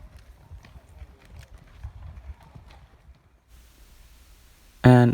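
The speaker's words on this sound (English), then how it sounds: "There are a lot of more horses coming" Several horses pass by on a trail near Bryce Canyon, their hooves clip-clopping faintly and irregularly at moderate distance, ending in a sudden loud burst of noise.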